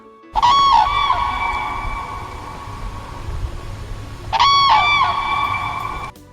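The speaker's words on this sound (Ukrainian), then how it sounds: "це курличуть журавлі" Two loud bursts of honking, trumpeting bird calls, one near the start and another about four seconds later, with a hiss of background noise between them.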